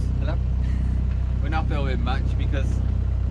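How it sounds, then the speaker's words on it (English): A steady, low sailboat engine drone runs throughout, close and constant, while someone talks briefly over it. "as you could probably hear, the engine is on, so it's Motoring"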